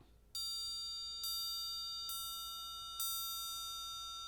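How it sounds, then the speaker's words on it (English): Concert triangle struck with the beater held perpendicular, flat to the floor, giving a focused, piercing bell-like ring: four evenly spaced strikes, each a bright metallic ping with a long sustain, played alone. "if you play perpendicular, flat to the floor, the tone is going to be focused and piercing"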